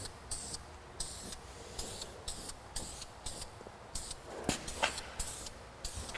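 Red spray paint hisses from an aerosol can onto a rust-repaired car body panel in a series of short, regular bursts with brief pauses between, fairly close.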